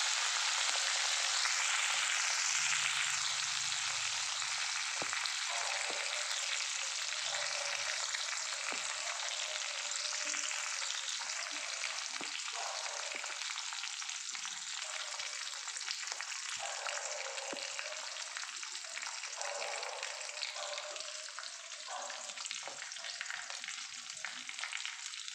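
Cashews and raisins sizzle and crackle steadily in hot tempering oil for curd rice, a close, continuous frying hiss with occasional stirring scrapes and no talk.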